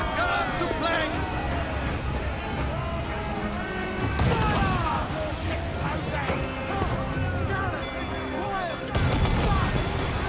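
Booming ship cannon shots and crashes in the video game Assassin's Creed IV: Black Flag erupt over a loud, continuous naval battle din, with shouting voices throughout.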